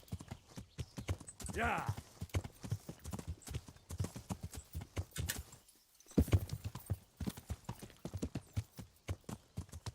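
Horse hooves clip-clop in a steady, close rhythm in the video game Kingdom Come: Deliverance, with a brief whinny near the start, and someone talks over the riding.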